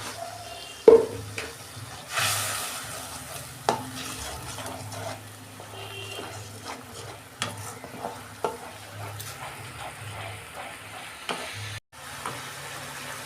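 Soybean curry with turmeric frying in oil in a pan, a steady soft sizzle under repeated stirring and scraping of a spoon against the pot, with a few clinks, close and continuous.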